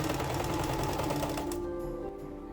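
A sewing machine stitches linen for a Viking shift underdress, a fast close mechanical rattle that runs steadily and then slows and stops near the end.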